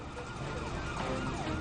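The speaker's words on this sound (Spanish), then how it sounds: "me subí al camión de bomberos y salí" A fire engine's wailing siren rises and falls continuously, loud and close, over the rumble of the truck's engine as it heads out to a nearby house fire where a plane has crashed.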